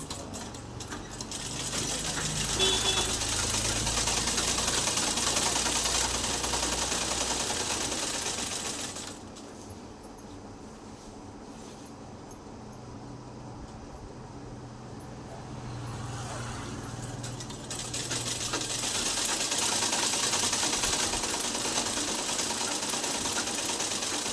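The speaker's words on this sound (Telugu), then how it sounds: "ఇలా 3 లేయర్స్ పెట్టి కుట్టు జాయింట్ వేసుకోవాలి." A sewing machine runs in steady bursts, stitching a joint through three layers of cloth with lining. It hums loudly up close, eases off into a quieter stretch, then picks up again.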